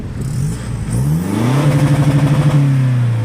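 A tuned Toyota Vigo 3000 diesel pickup on a remapped stock turbo accelerates hard and close by, its engine note climbing steadily from a low rumble to a sustained strained drone with a pulsing rhythm.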